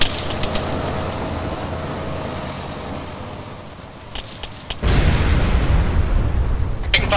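Bursts of gunfire and heavy booms from the ARMA 3 military shooter, several sharp cracks early on, then a loud sustained roar of combat from about five seconds, with a few more sharp shots near the end.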